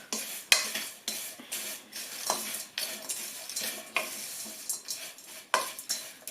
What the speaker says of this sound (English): So we'll mix this up as well.